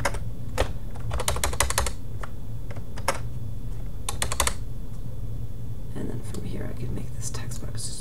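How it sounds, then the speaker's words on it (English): Computer keys clatter in quick bursts of close typing, with pauses and single taps between clusters, as keyboard shortcuts are pressed while making a chalkboard flyer in a layout program. "I'm hitting Control V as a shortcut to paste."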